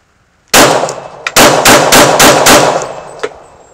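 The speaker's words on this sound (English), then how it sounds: "we're going to do a mag dump real quick" Rapid gunfire from a firearm with an Olight Valkyrie 2 weapon light mounted: a loud magazine dump of about eight sharp, closely spaced shots, each cracking and ringing out, then a final shot and fading echo.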